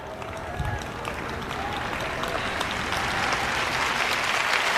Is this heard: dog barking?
no